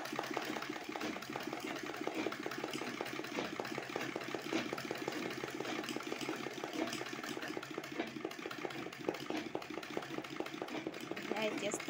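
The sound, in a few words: embroidery sewing machine running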